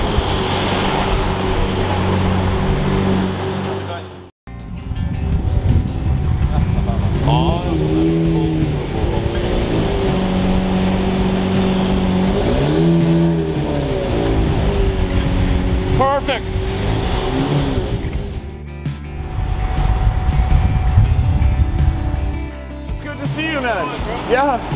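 A Lamborghini Murcielago LP640 roadster's V12 revving hard, with repeated rising and falling blips over a continuous engine roar, a brief cut-out early on, and talk over it at times.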